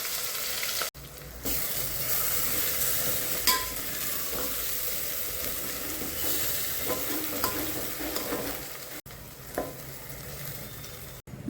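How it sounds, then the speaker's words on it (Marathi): Ground masala paste (vatan) roasting in a pan for a mutton dish, a continuous close sizzle and fry with faint stirring scrapes and a few soft knocks, no voices. "वाटण टाकून देऊ आपण भाजायला."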